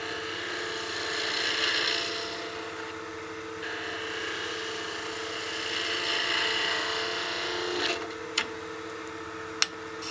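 Skew chisel taking a shearing cut on spinning wood on a lathe, a steady close rasping hiss with the handle raised as the tool rolls over, ending in a couple of sharp ticks.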